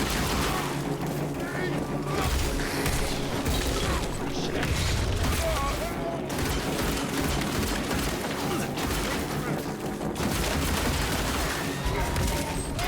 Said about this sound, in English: Electricity pistol bullets are really good.